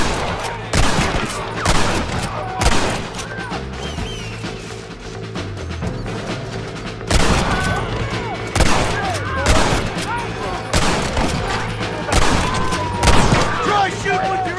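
Video game gunfire in Red Dead Redemption: loud bursts of rapid shots and volleys arrive in clustered waves, with impacts and crashes between them and some shouting mixed in.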